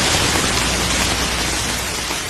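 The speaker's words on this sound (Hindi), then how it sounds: "वर्षा करवा दी" Steady, dense rain sound effect, a loud continuous hiss of falling water with no pauses or voices.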